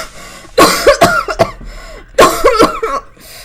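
A woman coughs hard in two close fits of harsh, hacking bursts with a wheezy rasp between them, loud and near.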